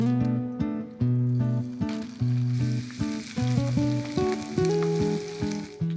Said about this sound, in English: these you can just take a spoonful and add them from frozen to your frying pan